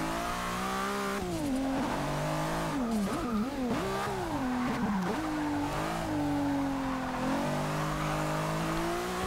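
A 1990s race car in Forza Motorsport 6 roars loudly and steadily, its engine pitch swooping up and down through repeated gear changes and braking, with light tire squeal in places.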